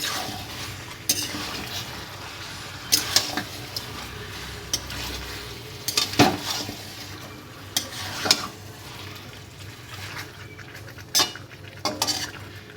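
Meat curry with potatoes sautés in a pan, a soft sizzle beneath repeated clinks and scrapes of a metal spoon stirring at irregular intervals, close and without talk.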